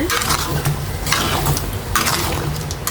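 A spoon stirs mango pieces through melted sugar in a pot, making close, repeated scraping and clinking strokes over a soft bubbling underneath, with no one talking.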